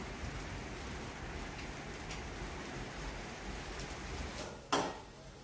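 Steady rain pattering all around in a continuous wash of noise, with one brief louder knock near the end.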